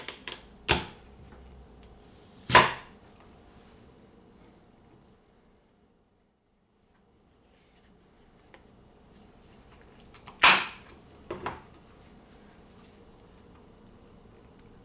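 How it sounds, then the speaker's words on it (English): Apple slicer pressing down to core and slice apples, a few sharp clunks and snaps with quiet gaps between them, close and clear, no talk. "This one cores and slices my apples, and I could pop out all the slices at once with the hinged cover"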